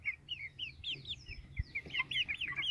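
Brahma Light hens and a rooster clucking and chirping in a steady run of short calls, close and fairly loud, alone with no talk.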